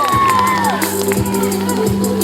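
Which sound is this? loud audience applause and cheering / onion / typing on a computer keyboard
loud audience applause and cheering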